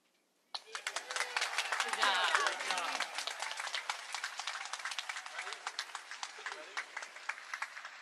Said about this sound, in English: Nice loud round of applause for Jeremy.